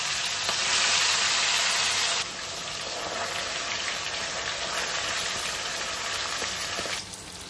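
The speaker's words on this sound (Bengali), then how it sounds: "জাস্ট চিকেনটা ভাজা শুরু হয়েছে" Chicken frying in a pan in a home kitchen gives a steady, fairly close sizzle that is loudest in the first couple of seconds, then eases into a softer, continuous hiss.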